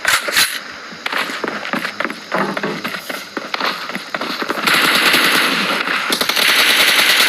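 PUBG video game gunfire: loud, rapid automatic bursts and single shots crackling close up, with a brief pause before a sustained, dense volley near the end.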